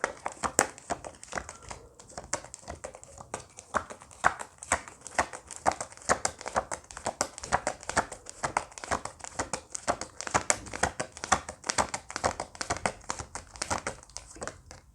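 Tarot cards shuffled and handled while a card is drawn, giving a dense stream of close crinkly paper rustles and soft taps that run steadily throughout without talk.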